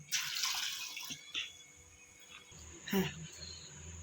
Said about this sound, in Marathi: आता डाळ तांदूळ धुवून घेऊयात